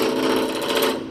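A wood lathe turning a workpiece while a hand-held tool is eased in to start cutting, giving a loud, continuous, close whirring grind with a dense rough texture and no pauses or voices.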